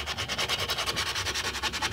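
Sandpaper scrubs the brake shoes of a Bajaj TVS mototaxi in quick, steady back-and-forth strokes, close and alone without talk.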